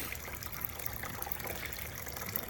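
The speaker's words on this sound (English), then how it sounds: "what's kind of cool about the water fountain is it just creates a sound" A front yard water fountain in a landscaped garden splashes continuously, a steady close wash of falling water with no voices.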